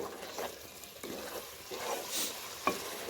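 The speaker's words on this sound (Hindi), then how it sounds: "तो हम इसे हाई फ्लेम करके ओपन लिड करके 2 मिनट इसके अच्छे से भुनाई कर लेंगे" Methi chicken stir-fried on high flame with the lid off, a continuous close sizzle broken by repeated scraping strokes of a spatula through the pan and a few sharper clinks.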